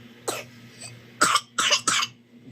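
Several coughs from one person, close and fairly loud: a single cough, then a quick burst of three in a row, with a steady low hum underneath.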